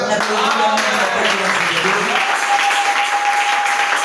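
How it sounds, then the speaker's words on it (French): An audience applauding for a pastor at a church service, a steady, loud wash of clapping that continues throughout the clip. "C'est pourquoi acclamer un peu pour votre pasteur."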